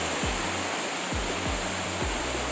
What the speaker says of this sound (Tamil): எனக்கு கீழே தான் வாட்டர் ஃபால் இருக்கு.